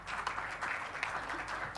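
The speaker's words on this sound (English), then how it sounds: "please give it a round of applause to our lovely speakers, Mr. Tagore and Professor Zhang" Audience applause at an international engineering conference session, a steady even wash of clapping filling the room after the speakers finish, moderately loud and continuous throughout.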